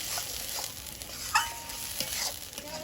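Ridge gourd paste, made from the peel, sizzling and being stirred in hot oil with nigella seeds in a kadai; a steady soft fry hiss with occasional scraping clinks, moderately close, no talk.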